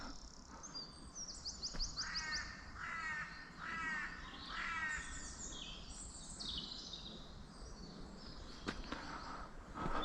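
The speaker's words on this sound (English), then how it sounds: "Listen to all those birds." Several birds call outdoors, with repeated crow-like caws and rapid chirping trills scattered over a steady rural background, moderately near.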